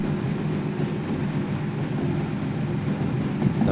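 A heavy freight train of about 900 tonnes rolls along the track in Derail Valley with a continuous low rumble and a steady mechanical drone, loud and even throughout.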